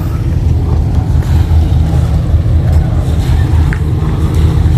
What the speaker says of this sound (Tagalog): ayan yung bagong dating na bangka malaki